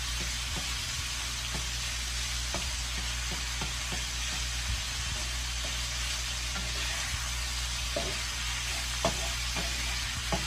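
A pan-seared pepper steak cooking toward medium sizzles in a pan with a steady, even crackle that runs throughout, with scattered small pops and no talking.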